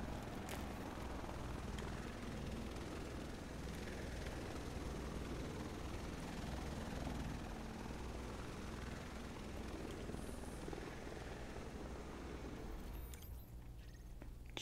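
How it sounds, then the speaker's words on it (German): Helicopter in the video game Tom Clancy's The Division, a faint, steady rotor and engine drone continuing throughout at a distance, alone without speech. "Ich höre doch einen Hubschrauber."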